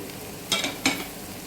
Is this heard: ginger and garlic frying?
yes